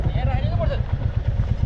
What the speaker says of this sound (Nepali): त्यो मोटरसाइकल जान्छ होला नि